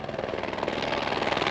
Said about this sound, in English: hopefully not be in a helicopter that I imagine is landing to pick someone up